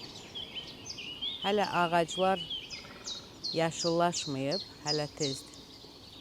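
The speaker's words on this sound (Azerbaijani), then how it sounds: "Quşların səsini dinləyin." Birds sing in spring in the Qətriş area of Quba, with high, repeated chirping phrases running throughout, near and clear, while someone talks over them.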